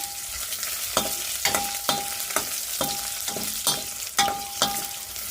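Ingredients fry in hot oil for a coconut chutney, crackling in a constant sizzle while a utensil scrapes the pan in regular, evenly spaced strokes, close and clear with no talking.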